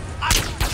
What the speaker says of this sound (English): The police are shooting you now.